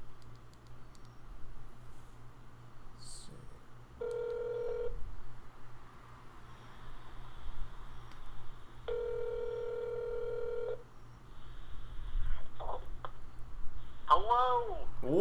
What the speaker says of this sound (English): I'm just going to call him up, see if this works. So, of course, you got Tom on speed dial. Put him on speaker.